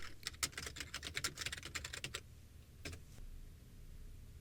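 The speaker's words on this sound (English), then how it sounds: "We'll type My Kindle Reviews into Google." Quick bursts of keystrokes on a computer keyboard type a search query into Google, close and crisp, a rapid run of clicks that stops, then a few last taps, with no talking.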